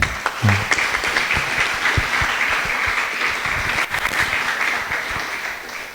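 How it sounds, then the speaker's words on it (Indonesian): A seminar audience applauds in a steady, dense wash of clapping that fills the room, loud and sustained for several seconds before easing slightly toward the end. No one speaks. "Kita berikan aplaus lagi."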